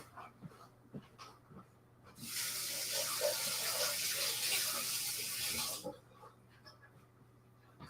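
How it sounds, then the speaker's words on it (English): A tap runs at a sink for hand washing, a loud steady rush of water lasting a few seconds, with a dog panting nearby before and after. "let me go wash my hands since I made a mess."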